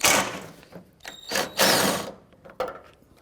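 Mechanical ratcheting of a 10mm bolt being loosened and removed from a headlight bracket under the front fender of a 2009-2015 Honda Pilot, in several short close bursts with brief pauses between.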